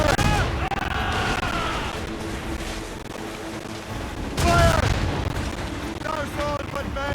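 Ship cannon fire in the naval video game Assassin's Creed Rogue: heavy, loud booms with a broad rumbling wash, the biggest burst midway and another near the end, while crew voices shout over the battle.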